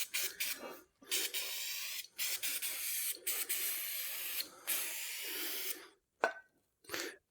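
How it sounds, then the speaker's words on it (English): An aerosol can sprays onto the brake disc of a Volvo XC70 in a series of hissing bursts of varying length separated by short pauses, close and loud, ending with a few brief taps. "I'm not going to spray it too much in this area"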